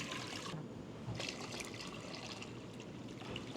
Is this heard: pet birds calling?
no